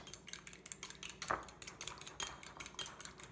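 A utensil rhythmically beats cold fat in a bowl for pie dough, a quick series of light clinking taps at steady pace, close up with no talking.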